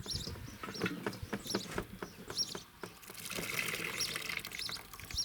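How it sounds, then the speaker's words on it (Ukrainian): Water is squeezed out by hand and trickles away while willow cuttings are set up for rooting, a soft close splashing dribble over faint outdoor background with birds. "воду так отжимаємо, потекло і все"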